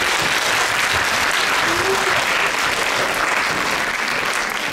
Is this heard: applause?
yes